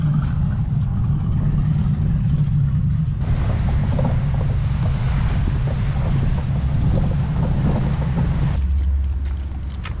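A loud, low rumbling race boat engine idles steadily in the early morning, with wind and water noise around it and a brief shift in tone partway through.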